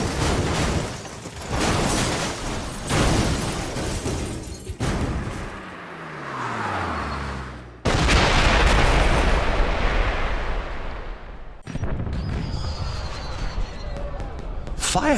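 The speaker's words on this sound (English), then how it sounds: "Did you know there were going to be fireworks?" Fireworks burst in the James Bond 007: Blood Stone video game, with loud booming explosions and crackling bursts in several separate bursts, mixed with music and spoken dialogue.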